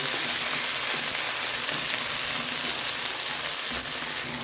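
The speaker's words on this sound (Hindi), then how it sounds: "अदरक और लहसुन को हमने प्याज में इतना भूनना है ताकि इसका कच्चापन जो है अदरक लहसुन का वो दूर हो जाए।" Ginger garlic paste frying with onions in a pan gives a steady, dense sizzle that runs unbroken at close range, with no voices over it.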